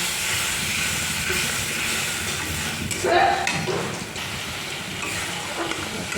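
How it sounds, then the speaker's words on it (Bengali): Rinse water from a spice bowl poured into a sizzling masala pan, giving a sudden hissing burst of steam partway through over a steady background hiss and frying noise. "মশলা বাটি ধোয়া জলটা দিয়ে দিলাম"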